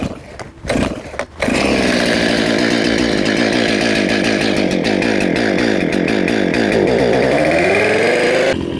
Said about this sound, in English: I'm gonna go ahead and let this chainsaw warm up for a minute.